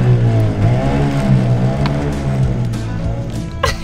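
A boat's engine starts and runs with a low, steady droning hum that wavers in pitch as it revs, close and loud, with a couple of brief knocks and clatters near the end.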